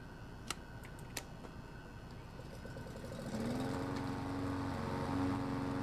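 A generator in the Backrooms video game starts up after a few faint ticks, then holds a steady lawnmower-like engine drone, moderately loud and unaccompanied by talk.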